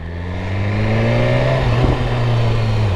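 A BMW S1000RR sport motorcycle engine revs hard and close, its pitch climbing and holding in a loud, steady roar for a few seconds with no talking.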